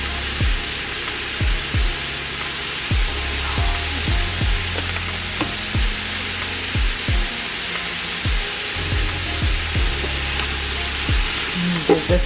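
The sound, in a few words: stirring sizzling enchilada pasta with spices in a pan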